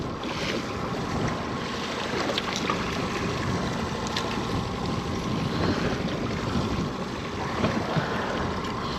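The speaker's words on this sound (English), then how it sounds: "Wind's starting to pick up a little bit" Wind blowing across a lake while trolling for walleye from a boat, a steady broadband rush with microphone buffeting and faint lapping water throughout, no voices.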